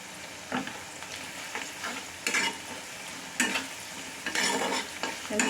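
A spoon or spatula stirs spices into a boal fish curry in a hot pan, giving sizzling scrapes in several distinct bursts over a steady frying hiss, close and moderately loud, with no voices.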